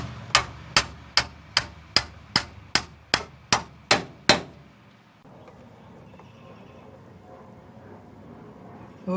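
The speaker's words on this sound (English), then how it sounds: "So you can hear the shackle bolt bottom out when it hits the frame." A 1955 Cadillac Coupe DeVille's rear shackle bolt bottoms out against the frame in about a dozen sharp, evenly spaced metallic knocks, loud and close, then quiet workshop noise.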